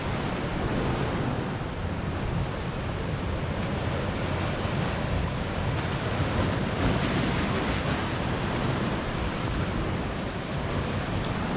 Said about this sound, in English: The sea is so stormy out here